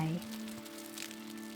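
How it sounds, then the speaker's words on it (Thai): Early-morning rain falling on a campsite in the hills of Doi Chang, Chiang Rai, a soft, continuous patter with a faint tonal hum at the very start. "แต่ในเช้าตรู่บางวัน สายฝนก็แวะมาทักทายหยอกล้อเราบ้าง"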